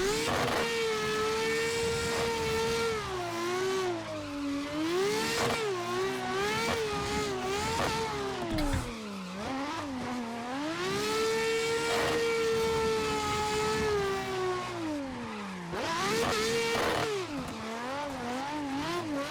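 A racing car engine in the Assetto Corsa driving sim, played on a wheel setup, revs hard and continuously, its pitch climbing and dropping through repeated gear changes. The sound stays loud and close throughout, with no talking.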